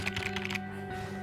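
A password typed on a computer keyboard: a quick run of soft key taps over a steady background hum, the clicking stopping midway and leaving only the hum.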